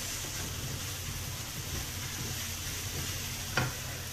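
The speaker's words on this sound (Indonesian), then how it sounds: "Kita tumis." Tuna and sardine filling for epok-epok being sautéed in a pan, a steady faint sizzle with a brief clink of a utensil near the end.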